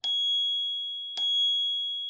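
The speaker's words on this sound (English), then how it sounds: "And my other little complaint is the bell." Two bright dings from the handlebar bell of a Mokwheel Slate folding e-bike, about a second apart, each ringing out clearly and fading on its own.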